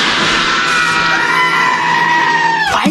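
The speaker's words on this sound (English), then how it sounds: "Why is everyone screaming?" Several people screaming together in a radio sound effect, a loud sustained chorus of high yells that holds and then cuts off with a sharp bang at the end.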